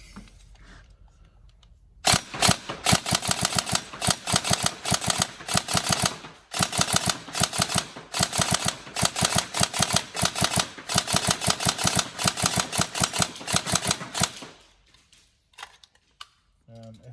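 A Tokyo Marui 416 Devgru NGRS airsoft electric gun fires in rapid bursts and strings of shots, sharp mechanical clatter repeating for about twelve seconds, close and loud, with brief pauses between trigger pulls.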